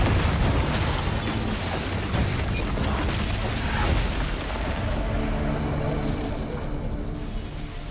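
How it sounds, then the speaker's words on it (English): A missile launch explosion in Honkai: Star Rail, a loud sustained rumbling blast with dense low-end roar that carries steadily for several seconds before slowly thinning. "she launched a missile"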